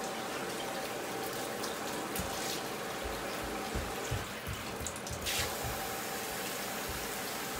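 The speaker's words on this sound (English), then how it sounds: "Just going to force a little bit of water down there." A hose forces water down a clogged sewer drain, making a steady, loud rushing hiss of flowing water that runs unbroken throughout, with some low gurgling thumps partway through.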